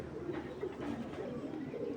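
Giribaz pigeons, a flying tumbler breed, coo softly in a loft, overlapping low rolling calls close by with a faint murmur of background noise.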